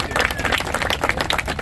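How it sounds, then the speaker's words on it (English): An audience at a Caltrain 160th year celebration claps steadily, a dense burst of many hands applauding close by, with a little crowd murmur mixed in. "We're just going to do the single clap because this list is long for all the notables here today."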